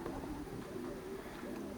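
Soft, low cooing of racing pigeons, a continuous murmuring burble close by with no talking.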